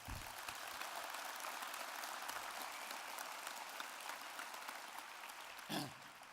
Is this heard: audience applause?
yes